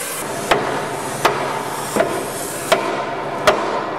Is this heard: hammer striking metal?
yes